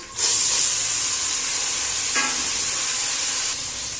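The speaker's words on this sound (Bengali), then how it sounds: "আর দেবো পেঁয়াজ কুচি এগুলোকে একটু নাড়াচাড়া করে নিচ্ছি এবার দেবো কেটে রাখা টমেটো" Chopped onion and tomato fry in a hot pan with a loud, steady sizzle and hiss throughout, plus a brief stir or added-ingredient burst partway through, close up with no talking.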